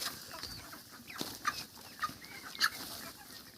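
Broiler chickens on straw litter cluck softly in short, scattered calls over a quiet, low barn hum, with a few sharper squawks near the end.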